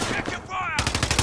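Rapid automatic gunfire in the video game Call of Duty Warzone, a quick burst of repeated shots heard close and loud, with a brief tonal game sound just before it.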